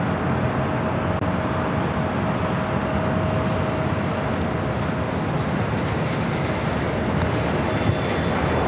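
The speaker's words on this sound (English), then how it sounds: "Delta A350 touching down on the south side, 25 left." A Delta Airbus A350 touches down on runway 25 left, south side, at LAX: a steady, loud broadband roar of engines and rushing air with a thin sustained tone running through it.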